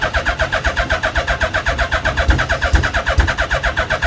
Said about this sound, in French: on va démarrer la radicale